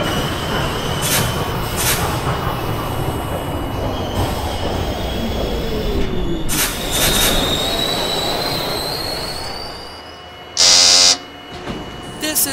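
An R40M subway car on a Rockaway Park bound H train in the OpenBVE simulator squeals its wheels loudly over a constant rumble, rising pitched screeches sliding through, then a brief buzzer-like tone near the end.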